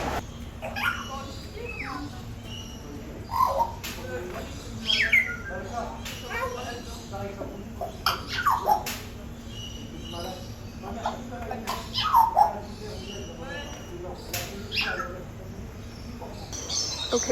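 Birds at the KL Bird Park in Kuala Lumpur give scattered chirps and calls at moderate distance under a steady hum, while a person talks over them.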